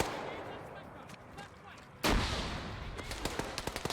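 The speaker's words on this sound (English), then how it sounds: "They're throwing grenades now." In a tactical military shooter game, a heavy grenade blast erupts midway through distant gunfire, followed by a string of sharp, close rifle shots.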